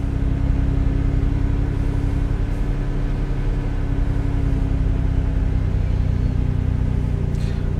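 A car engine runs at raised revs during a battery charging test, a steady loud mid-low drone with a constant hum and no talk over it.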